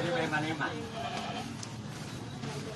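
Goats bleat faintly from a village pen during a large fire near a warehouse and sugarcane field, with a man reporting over steady background noise.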